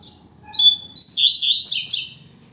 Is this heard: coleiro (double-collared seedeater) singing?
yes